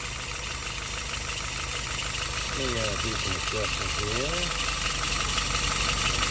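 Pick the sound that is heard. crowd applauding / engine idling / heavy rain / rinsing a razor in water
engine idling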